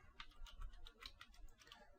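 Quick, quiet keystrokes patter on a computer keyboard in an irregular run of taps, close but low in level.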